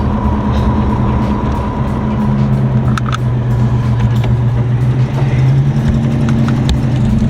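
A Box Chevy's engine idles loudly and steadily up close, a deep even rumble with a low droning hum held throughout.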